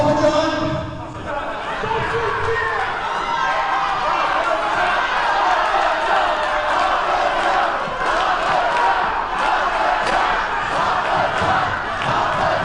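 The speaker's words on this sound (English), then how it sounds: "This sold-out crowd here in High Point giving him the business" Sold-out wrestling crowd in High Point jeering at Papadon, a loud, dense roar of shouts and boos filling the whole stretch with an announcer talking over it.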